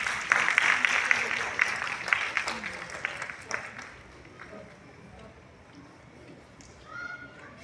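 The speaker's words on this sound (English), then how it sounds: "Let's give her a round of applause." An audience applauds at an award ceremony honouring contributions to literature and social service. Dense clapping is strongest at the start, then thins out and fades into quieter room sound with scattered noises.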